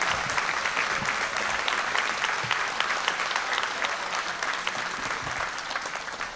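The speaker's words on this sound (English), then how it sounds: "let's give them a round of applause" Parents and guests applaud students at an eighth-grade promotion ceremony, a broad, continuous wash of clapping from a large crowd in a hall, sustained evenly for several seconds without speech.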